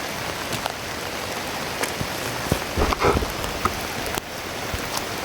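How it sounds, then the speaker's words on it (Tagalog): Steady heavy rain pours down, a dense hiss of drops hitting surfaces with occasional louder splashes, continuous and close. "Mag-off cam na lang tayo kasi malakas yung ulan."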